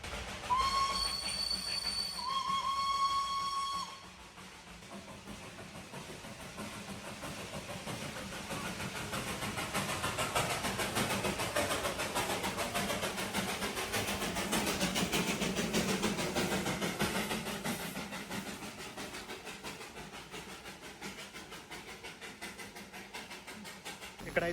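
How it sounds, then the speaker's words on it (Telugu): Train rumbling steadily along the tracks for most of the stretch, loud and sustained after a brief tonal beep at the start, with faint voices in the background. "ట్రాక్స్ మీద ట్రైన్ వస్తుంది అనుకొని సైడ్ దిగిపోయాము."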